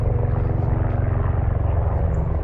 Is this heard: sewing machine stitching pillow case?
no